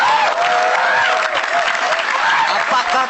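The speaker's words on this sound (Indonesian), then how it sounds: "kasih tepuk tangan ya" A stand-up comedy audience claps in a steady, loud burst that fills the whole stretch, a dense wash of applause from a live crowd.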